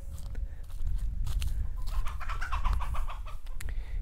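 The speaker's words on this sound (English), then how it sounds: "baby duckling, they are exceptionally cute." Baby ducklings in a small pen make chirping and peeping calls in a busy cluster over steady low background rumble, fairly close.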